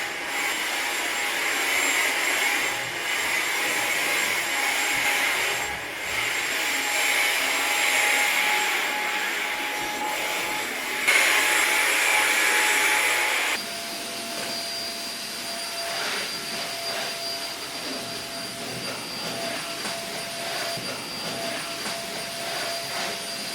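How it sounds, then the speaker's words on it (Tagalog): A household vacuum cleaner drones through a house cleaning session, a loud steady whine with a high tone whose pitch and loudness shift partway through as the machine moves. No talking. "mag vacuum ko"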